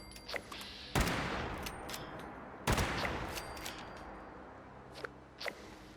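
Sniper gunfire in the video game Fallout 76, two loud sharp shots a couple of seconds apart, each trailing off in a long echoing decay, with a few softer clicks and thuds around them.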